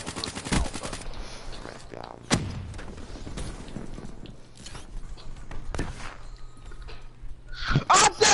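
Bursts of rapid video-game gunfire with fast-magazine weapons crack out at intervals, several sharp shots separated by quieter stretches, with a voice speaking in the background.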